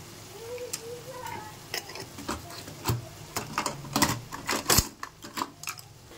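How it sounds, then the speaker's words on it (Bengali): Spice paste cooking in a pan with a little water and Kashmiri red chili, a steady sizzle broken by scraping and clicking stirs that grow busier and louder toward the end, close up and with no talking. "সামান্য একটু জল আমি অ্যাড করে দিয়েছি মশলাটা কষাবার জন্য, এবং তার সঙ্গে 1 table spoon Kashmiri red Mirchi."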